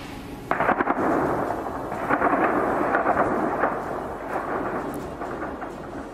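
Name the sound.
gunfire and explosions echoing in city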